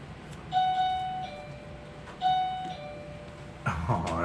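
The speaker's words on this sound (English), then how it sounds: "Oh, that's the doorbell." A doorbell chimes twice in a row, each a clear ringing two-note ding-dong that fades out, followed by a short rustle and a bump.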